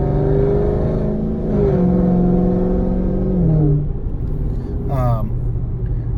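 A low-slung car fitted with Corsa longtube headers accelerates in a short pull, its engine note rising with harmonic bands and then falling off. The exhaust is loud and close, and a voice talks over it.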